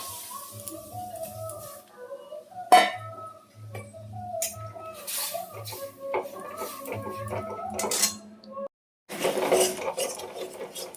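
A spoon stirring a mango mixture in a metal wok, giving scraping and rubbing strokes with light clinks, while a soft tonal sound runs underneath and a short gap near the end.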